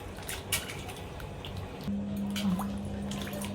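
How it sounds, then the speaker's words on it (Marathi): Cauliflower is washed by hand in water with turmeric and salt, giving soft close splashes and drips. A faint steady hum sounds through the second half. "हळदीच्या आणि मिठाच्या पाण्याने आपण हे स्वच्छ धुवून घेऊया."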